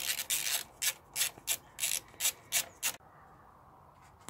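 A ratchet with a 5 mm Allen socket works bolts loose during an alternator replacement on a Ford 2.0 TDCi engine. About eight quick, rasping back-and-forth strokes sound close by, then stop abruptly.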